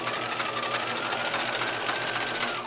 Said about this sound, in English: line up with the inside edge of the presser foot because you want to stitch very close to the casing. Back stitch there.